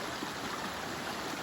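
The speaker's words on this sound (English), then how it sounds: "We are at Eliza Brook." Water flows over rocks at Eliza Brook, a mountain stream in New Hampshire's Kinsman range, a soft, steady rushing wash that is faint and continuous, heard alone.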